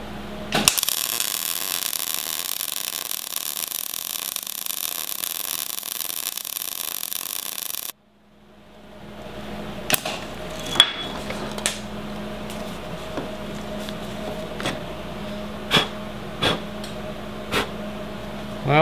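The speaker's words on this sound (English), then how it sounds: "Now let's weld it up using our robo welder and our foot pedal that we made in the last video." A homemade robotic welder runs on a steering spacer for a full hydro steering setup, giving a steady, loud buzzing crackle for about eight seconds. It then cuts off, followed by scattered mechanical clicks and ticks over quiet background hum.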